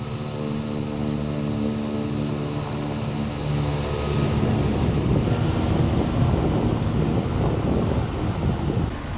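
Kodiak 100 turboprop engine in Microsoft Flight Simulator 2020, a steady droning hum with whining tonal layers that grows louder and rougher halfway through as power rises, continuous throughout with no talking.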